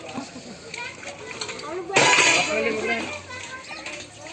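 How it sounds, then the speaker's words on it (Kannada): After a function, dishes and utensils are washed, giving intermittent clinks and clatters with a sharper burst of metal near the middle, mixed with chatter and children's voices nearby. "ಇಲ್ಲೆಲ್ಲ ಪಾತ್ರೆ ವಾಶ್ ಮಾಡ್ತಿದ್ದಾರೆ"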